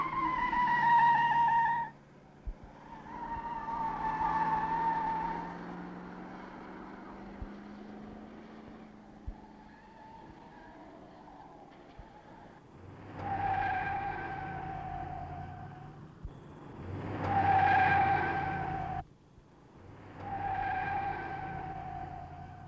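A 1966 Pontiac sports car engine roars and revs through rising gear changes, with tires screeching in sharp squeals as it speeds past, loud and close.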